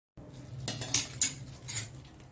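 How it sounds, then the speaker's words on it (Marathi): A few metallic clinks and clatters of a pot set down on a stove to heat, close by, faint against a low background hum. "त्याच्यासाठी मी पातेलं गरम करायला ठेवलंय"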